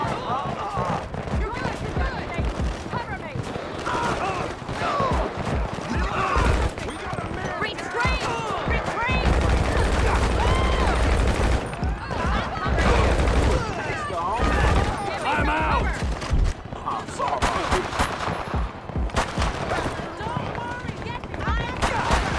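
Bursts of video game gunfire from GTA V crackle repeatedly while someone talks excitedly over them, shots loud and dense throughout.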